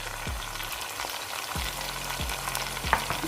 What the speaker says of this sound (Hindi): और साथ ही इनके मैं लहसुन अदरक का पेस्ट ये भी ऐड कर दूंगी।